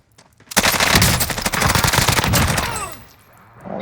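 Rapid automatic gunfire in an online shooter game crackles loudly in a dense burst of shots for about two and a half seconds, then trails off into quieter echoes.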